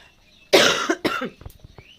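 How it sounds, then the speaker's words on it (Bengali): A person coughs hard twice in quick succession, close and loud, followed by a few short, softer throat sounds as the coughing trails off in a quiet room. "কাশি কবে থেকে হচ্ছে সারছে না"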